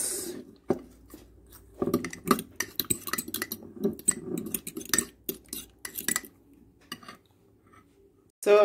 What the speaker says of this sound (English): Natural Greek yogurt goes in there. Then you mix.